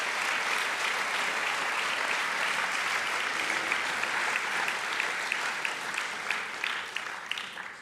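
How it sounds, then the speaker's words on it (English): An audience claps steadily for nearly eight seconds at a gathering, a dense and even wash of many hands that tapers slightly toward the end, with no talk. "So a round of applause for Donnelly and Chef Hale and Mr."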